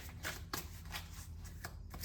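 Oracle cards being shuffled during a tarot-style reading, a soft continuous riffle and slide with a few sharper flicks, quiet and close with no talking.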